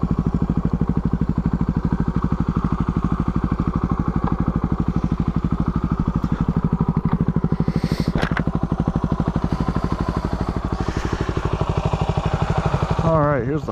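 A dual-sport motorcycle on Shinko 244 50/50 tires runs with a steady, close engine throb throughout, slowing as the rider pulls over and settling into a rumbling idle, with a brief clatter near the end.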